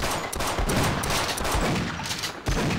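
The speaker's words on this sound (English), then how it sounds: "let me fucking shoot him a little bit" Dense rapid gunfire rattles from a Half-Life Sven Co-op game, a loud continuous burst of overlapping shots close up with no talking.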